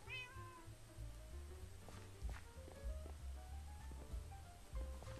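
In Minecraft a cat lets out several short meows spread across the moment, alongside soft thudding steps and low background game noise.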